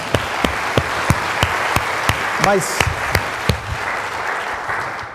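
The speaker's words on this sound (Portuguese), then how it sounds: "Vamos aplaudir Jesus porque é Ele." A church congregation claps along in a steady rhythm, sharp evenly spaced claps running throughout while a voice speaks over them.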